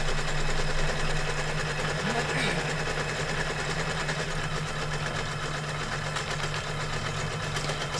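An embroidery machine quilts a notebook cover in the hoop, giving a steady, even mechanical whir with a fast repetitive stitching pulse that holds constant from start to finish.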